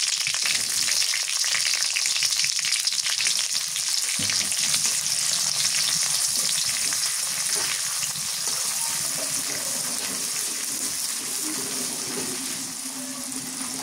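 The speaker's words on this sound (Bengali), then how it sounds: "পেঁয়াজ ভাজা হয়ে গেছে, কাঁচামরিচ বাটা দিয়ে দিই।" Chopped onion with whole cumin frying in oil in a pan: a loud, continuous close-up sizzle with bubbling crackles that holds steady throughout and eases only slightly near the end.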